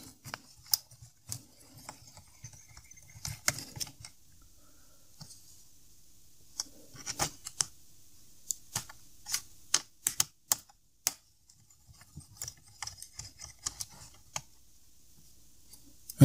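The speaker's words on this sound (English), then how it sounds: "So let's unscrew the CPU." A screwdriver loosens the CPU heatsink screws on a laptop, giving irregular small clicks and ticks close up, scattered in quick bursts with quiet gaps between them.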